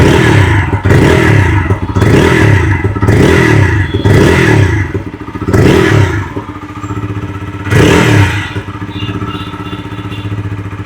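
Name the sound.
motorcycle exhaust note revving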